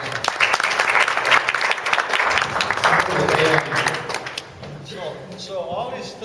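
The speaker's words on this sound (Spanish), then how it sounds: "Un aplauso." A crowd breaks into dense applause, steady and loud, tapering off toward the end as a few voices and scattered claps remain.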